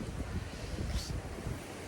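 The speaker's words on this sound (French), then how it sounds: "Et le vent commence à rafale." Gusting November wind blowing across a garden, a steady broadband roar with rough buffeting against the microphone that swells and eases over two seconds.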